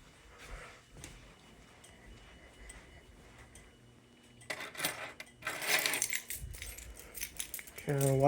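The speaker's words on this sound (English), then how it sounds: "Alright, we'll get the keys." A ring of keys jangles and clinks in short metallic bursts near the middle of a Simplex fire alarm system test, close and moderately loud over low room noise, with a sharp electronic tone starting at the very end.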